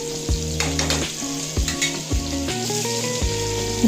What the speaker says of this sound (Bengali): দেখুন মাছগুলো খুব সুন্দর ভাজা হচ্ছে